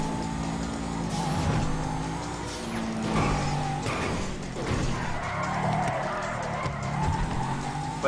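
A car drifts in Grand Theft Auto 5 with long squealing tire skids over a steady engine drone. The sound is close and continuous, with scattered bumps and knocks.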